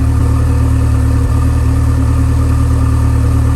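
A Lotus Esprit Turbo engine being restored, idling steadily after a restart while its throttle position sensor is not reading: a loud, close, even mechanical drone with a constant low hum and no voices.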